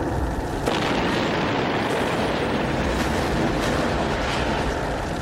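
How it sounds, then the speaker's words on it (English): A big movie-style explosion effect sounds as a dense, sustained roaring rumble with a sharp onset, broadband and loud, holding steady to the end. "people have come to expect really big explosions when they go to the movies"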